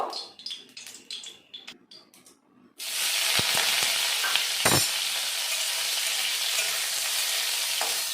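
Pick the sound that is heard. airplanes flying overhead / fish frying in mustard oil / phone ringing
fish frying in mustard oil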